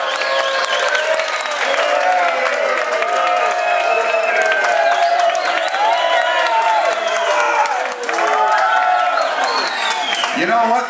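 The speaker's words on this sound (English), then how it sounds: "The guys got a longer applause, so I'm gonna give it to the guys." Dense, sustained audience applause mixed with cheering and whoops at a bartending contest aboard the Star Princess cruise ship, loud and continuous for the full stretch with only a brief dip near the end.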